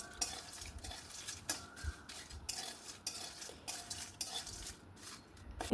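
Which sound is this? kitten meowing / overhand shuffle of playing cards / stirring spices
stirring spices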